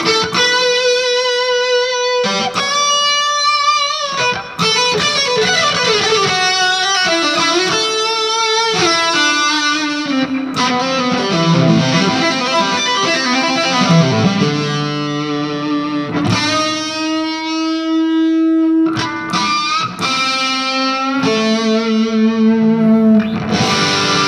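Electric guitar played through a Danplifier Uno single-valve Compactron amplifier with a booster pedal switched on, giving loud, distorted, sustained notes and chords in a continuous run of riffs with clear note separation.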